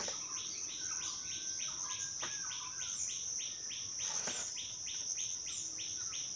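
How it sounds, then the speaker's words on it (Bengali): Birds chirp and call at dawn in a village mango orchard, with a steady high insect or cricket drone underneath and repeated short tweets across the whole stretch, fairly faint and distant. "পাখির কলরব দারুণ লাগে"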